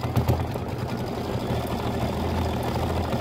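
An embroidery sewing machine stitching out a pumpkin stem on a quilt block, a continuous close mechanical whir with a fast rapid needle chatter, steady and unbroken throughout.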